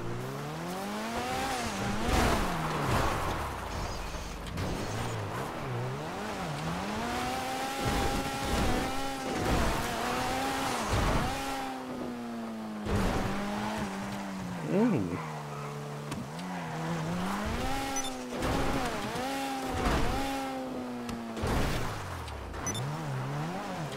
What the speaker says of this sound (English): Alright, gonna go rally racing